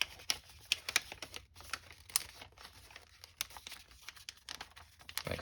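Paper crinkles and rustles as it is creased and folded into a paper jet, with crisp irregular crackles and sharp taps close up and no talking.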